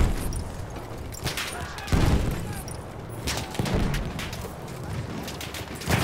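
Grenade explosions in the World War I shooter Verdun, heavy booms and crackling battle noise rolling in bursts amid distant gunfire, with faint voices underneath.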